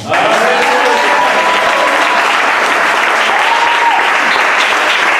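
A church congregation claps loudly and steadily in acclamation of God, a dense, continuous wall of applause with a faint voice or cheer underneath.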